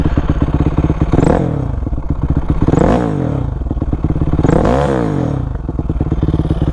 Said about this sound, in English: If you heard what the bike sounded like beforehand, you'll know that this is a massive improvement.